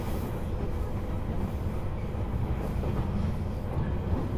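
A JR East Series 185 seven-car Odoriko 111 express runs on the Izu Kyuko line during its final run, a continuous rumbling rail roar from inside the carriage with faint wheel clatter.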